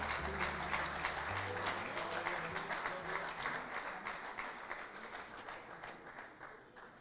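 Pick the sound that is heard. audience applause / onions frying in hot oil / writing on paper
audience applause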